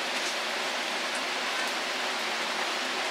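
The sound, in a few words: heavy rain falling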